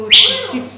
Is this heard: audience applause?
no